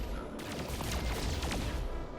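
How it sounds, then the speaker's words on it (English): A spaceship cannon in No Man's Sky fires a rapid, dense stream of shots, the bursts running together into a continuous rattling barrage against steady engine hum. "Holy shit, my cannon fires fast now."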